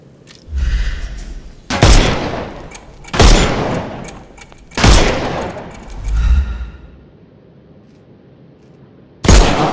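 Bursts of gunfire in the Sherlock Holmes Chapter One video game as enemies' armour is shot off: four loud, sharp volleys roughly a second and a half apart, each with a ringing decay, then a lull and a final burst.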